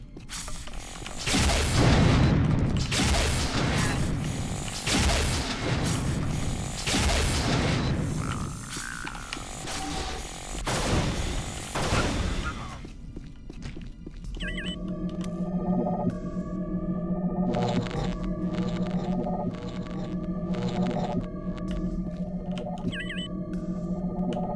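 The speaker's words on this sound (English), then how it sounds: "Generator control panel. Generator is operational. Power output normal." A generator starting up in the Unreal video game: heavy mechanical clunks and booming surges give way to a steady, layered electrical hum with rising tonal whines and rhythmic pulses, alone and fairly loud.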